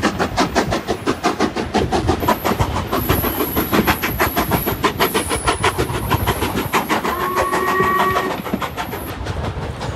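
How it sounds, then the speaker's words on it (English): Heritage train on the Keighley and Worth Valley Railway, hauled by Class 37 diesel 37075 with a Black 5 steam locomotive, passing close with loud steady rhythmic wheel clatter and whistle-like high tones. "After 37075 blew off some of its cobwebs, we stormed through Ingrow West, this time leading with the Black 5."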